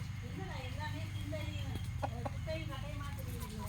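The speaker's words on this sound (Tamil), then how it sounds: "இது எல்லாமே நாட்டுக்கோழி தான்." Several native country chickens, including black and red birds, cluck close by in short, scattered calls over a steady low background hum.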